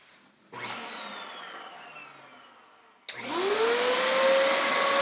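A vacuum cleaner is switched on twice. Each time its motor spins up into a loud, rising whine that then holds steady, close by and with no speech.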